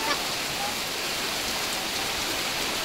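Steady rain pours down around a house, a dense even hiss that stays loud and unbroken throughout, with no clear voices over it.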